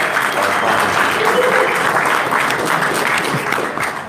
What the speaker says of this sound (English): I really think it deserves another round of applause, what Cecilia and what Kaylee